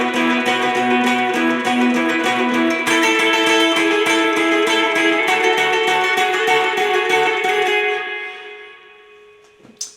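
Electric guitar strums the chords of a song at full speed with brisk, precise up-and-down strokes, loud and driving, before the last chord rings out and fades.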